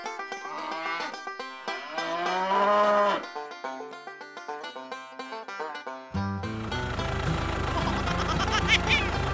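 Cattle moo on a farm amid a cartoonish scene with music, drawn-out lowing tones in the first few seconds, then a shift to busier mechanical and musical sounds.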